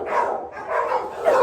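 Several dogs bark and yip continuously up close, loud overlapping barks with whimpering tones and no pauses between them.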